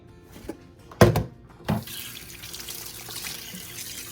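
A kitchen sink tap splashes onto raw chicken wings being washed, a couple of sharp knocks and splashes followed by a steady stream of running water close by, with no talking.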